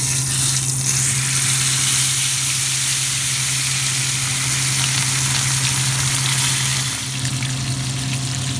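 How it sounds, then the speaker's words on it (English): Yellowtail snapper frying dry in a pan for brown stew, a steady broad sizzle that runs continuously and fairly loud under a low kitchen hum, with no talking. "So now that they're in the pan frying, we're gonna fry them dry until they're brown and dried fried."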